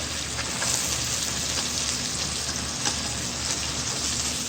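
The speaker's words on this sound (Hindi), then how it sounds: "इसको 2 मिनट फ्राई करेंगे।" Capsicum sizzles steadily in a hot pan as the base for a spaghetti sauce, a dense, even crackle of frying that runs throughout with no voices.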